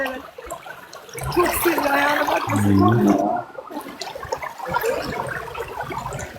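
Hot water runs through open channels in a gushing, gurgling rush that swells for a few seconds and then settles into a softer trickle, close by.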